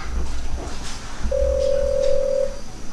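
A telephone being dialed during a call: a single steady electronic tone holds for about a second, surrounded by a faint hiss and low background noise, with no voices.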